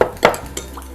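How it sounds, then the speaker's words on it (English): A spoon stirs sugar and apple cider vinegar in a dish, producing a few quick clinks and scrapes against the container within a second, close and clear with no talk. "Give that a stir."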